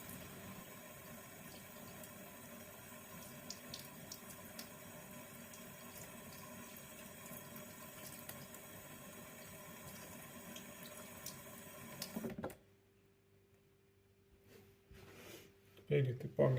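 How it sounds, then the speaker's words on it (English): A freshly sharpened kitchen knife is rinsed under a running tap, a steady close rush of water into a sink that cuts off abruptly near the end, followed by a few faint knocks. "Now what you need to do is just wash the knife, because it has a lot of metal dust on it."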